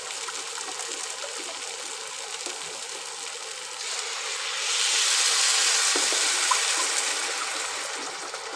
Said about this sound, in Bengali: আমি এক কাপ চাল নিয়েছি সেই জন্য আমি এর মধ্যে দেব দু কাপ জল